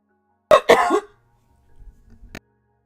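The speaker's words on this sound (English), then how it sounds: "I apologize for coughing in your ear." A person gives two quick, close-up coughs, sharp and fairly loud, followed by faint low rustling and a small click near the end, with no talk.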